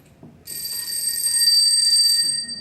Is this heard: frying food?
no